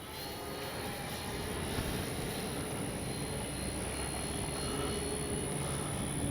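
A 1400mm FMS F4U Corsair RC warbird model plane makes a gear-down flyby, its electric motor a steady distant drone with wind blowing over it, holding even throughout.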